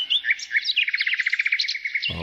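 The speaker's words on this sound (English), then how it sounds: "It's a pleasant sound when the birds are chirping." A songbird sings close and loud, a bright run of quick, evenly spaced chirps and trills ending in a brief low thump.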